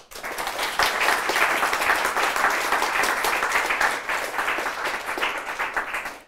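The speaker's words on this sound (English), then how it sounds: "I want to give a round of applause to Joe." An audience at a livestreamed talk on Bitcoin gives sustained applause, a dense, even patter of many hands clapping at close range that rises quickly and holds for about six seconds.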